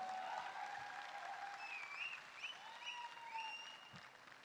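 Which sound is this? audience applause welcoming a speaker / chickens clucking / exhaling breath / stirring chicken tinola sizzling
audience applause welcoming a speaker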